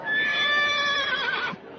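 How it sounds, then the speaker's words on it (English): A horse called Thunderhead lets out a loud, close, sustained whinny that holds a steady pitch for over a second before breaking off, with no other sound around it. "Listen, he's giving you the horse laugh now."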